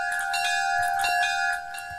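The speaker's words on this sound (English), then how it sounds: "that is definitely a perfect sound he's made for the bell" A custom-made train bell from a video game build rings out loud and clear, with sustained metallic tones and repeated strikes over a couple of seconds, heard alone without talk.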